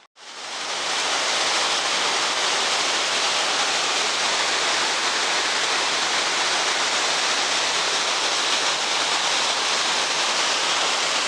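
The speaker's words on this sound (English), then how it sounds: "It's a little tiny waterfall." A small waterfall in Iao Valley State Park on Maui, Hawaii, pours with a steady, full hiss of falling water that rises quickly at the start and then holds constant for over ten seconds, with no talking.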